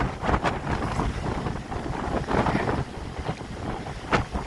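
Strong wind blowing outdoors in Waikiki, buffeting the microphone with a constant loud rumbling roar and gusty swells, no talking.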